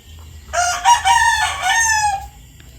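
A rooster crows once, loud and close, a long drawn-out call over a quiet low background hum, during fiesta eve preparations in a Philippine village.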